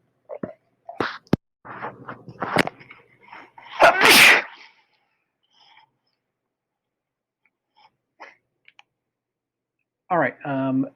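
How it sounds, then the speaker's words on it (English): A single loud, sharp sneeze bursts out nearby after some brief clicks and mumbled talk, followed by quiet and then a short voiced sound. "I'm gonna go sneeze"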